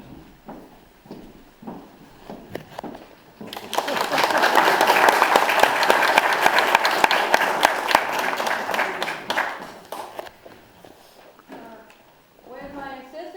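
A live studio audience practises clapping on cue, breaking into about six seconds of full, dense applause between stretches of someone talking.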